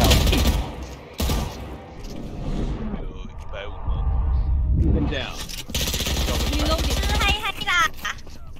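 Gunfire bursts from a Peace Elite battle-royale match crackle in short volleys between players' excited voice chat, with shots mixed under and around the talking.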